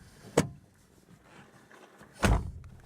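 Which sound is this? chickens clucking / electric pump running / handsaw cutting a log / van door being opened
van door being opened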